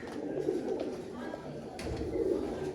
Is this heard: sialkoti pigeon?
yes